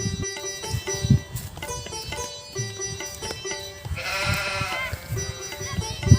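Goats grazing in a field beside mustard crops in rural Bihar, with intermittent bleats rising over a busy outdoor background and one louder, drawn-out bleat in the middle.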